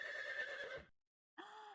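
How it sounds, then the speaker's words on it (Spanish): A horse neighing: a loud, close whinny with quavering pitch, then a brief silence and a second shorter whinny, with no talk. "¿Escuchaste cómo hizo el caballo?"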